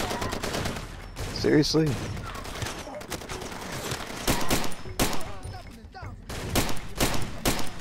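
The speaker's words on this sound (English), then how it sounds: "And I'm shooting you in the face, but you're not dying." Rapid bursts of gunfire rattle through a Far Cry 2 firefight, with overlapping shots and dense volleys, while someone speaks briefly over the shooting.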